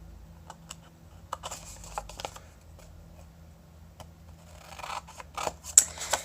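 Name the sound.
scissors cutting a paper square along crease lines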